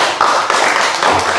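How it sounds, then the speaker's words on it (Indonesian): A classroom audience claps for a student group, a dense, loud burst of many hands clapping at once and sustained throughout the short stretch. "tepuk tangan untuk kelompok 4"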